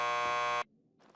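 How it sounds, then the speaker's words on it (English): A door buzzer in the video game Max Payne 2 sounds as one loud, steady electric buzz lasting just over half a second, then cuts off abruptly into faint noise. "Just press the buzzer by the door."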